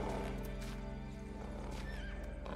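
A horse in the video game Ghost of Tsushima neighs loudly and close, a drawn-out whinny over the thud of hooves.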